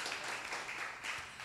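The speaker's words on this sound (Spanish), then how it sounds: "Podemos aplaudirle al Señor por eso" A church congregation applauds in a brief burst of dense, steady clapping that sounds faint and somewhat distant.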